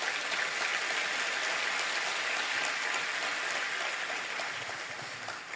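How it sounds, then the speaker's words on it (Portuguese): A church congregation applauding during a Sunday celebration service, a continuous wash of many hands clapping, steady and even throughout. "Aplauda ao Senhor bem forte."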